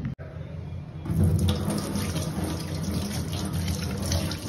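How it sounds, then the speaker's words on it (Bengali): Hands are washed under a running tap, with a steady, close splashing rush of water that starts abruptly after a brief pause and continues evenly without talk. "হাতটা ধুয়ে নিই"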